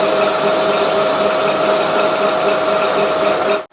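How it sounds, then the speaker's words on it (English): A tool cuts a small chamfer on the edge of a part during a warranty repair, giving a continuous, loud, even whirring drone with a steady high tone that stops abruptly at the end. "all we're going to do now is just put a little chamfer on the edge of there"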